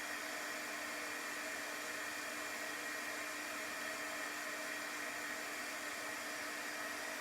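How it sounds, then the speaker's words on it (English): Heat gun blowing hot air onto stickers to soften their adhesive gives a steady, close, even whirring hiss that runs unbroken from start to finish with no talking. "if they don't come off easily, apply your heat gun to it"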